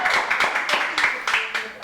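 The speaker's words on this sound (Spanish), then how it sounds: "un fuerte aplauso para ellos" An audience claps for two guest pastors in a steady burst of applause that pulses in quick waves for about two seconds, fairly close and full.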